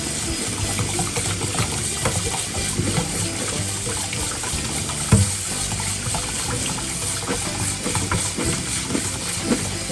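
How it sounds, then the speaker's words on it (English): Tap water runs steadily over cooked chickpeas in a strainer, a continuous close splashing rush with faint clatter from the beans moving, and no talk over it. "we put it in the strainer, and we rinse it out 3 times"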